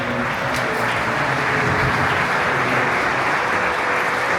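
A sold-out crowd applauds as a performer walks onto the stage, a thick, steady wash of clapping and cheering that stays loud throughout.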